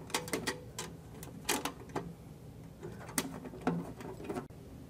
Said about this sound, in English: put our side cover on, slide it in like so, and then tighten up my 2 thumb screws.